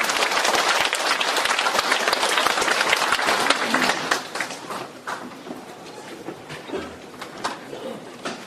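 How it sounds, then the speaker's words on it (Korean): A lecture hall audience applauds to welcome Professor Seol Seong-gyeong before a humanities forum talk, dense clapping that fades after four seconds into scattered claps. "오늘 강연해 주실 설성경 교수님께 큰 박수 한번 부탁드립니다"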